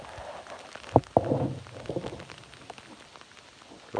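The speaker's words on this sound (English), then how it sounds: "Rain's coming down now" Rain falling on water outdoors, a soft steady patter with a few sharper drops and thuds, fairly close and without talk.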